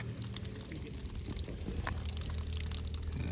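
Water mixed with pink antifreeze runs from an RV's outdoor shower fixture during winterizing, a steady splashing pour outdoors that continues without a break and grows slightly louder near the end.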